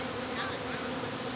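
Honeybees buzzing inside a top bar hive during a fall inspection, a steady, dense hum that holds evenly without a break.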